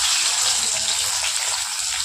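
Sliced bitter gourd hitting hot oil already popping with mustard seeds, cumin and asafoetida, giving a loud, steady hiss and sizzle that fills the short moment close up.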